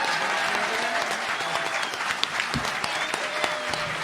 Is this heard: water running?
no